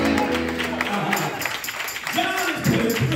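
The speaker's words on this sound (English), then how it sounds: "clap your hands and say, thank you" Church congregation clapping hands during a lively worship service, a steady wash of applause mixed with voices and music, loud and continuous throughout.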